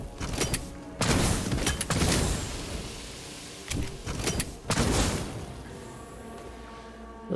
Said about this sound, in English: This gun shoots weirdly.